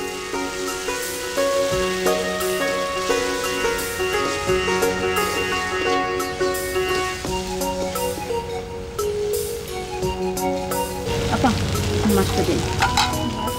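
Spice masala sautés in a pan for a Bengali village-style nola fish korma, with a loud, dense sizzle and frying crackle under repeated scraping stirs, steady throughout and close.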